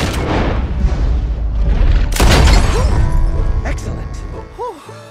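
A single sharp, loud gunshot cracks in Red Dead Redemption 2 after some opening noise, then rings off into a rumbling tail while voices talk around it.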